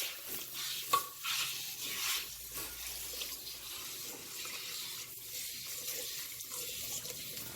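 Water splashes and trickles steadily as a hair patch is rinsed in a bowl after shampooing, a continuous close wet swishing with a small splash near the start, no voices.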